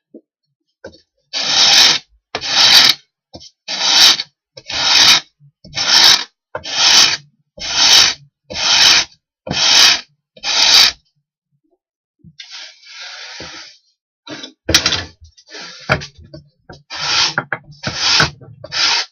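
Hand scraper rasping across wood for a homemade windmill, a steady series of about ten loud, evenly spaced strokes, then a short pause and a quicker, more irregular run of scrapes, all close up with no voices.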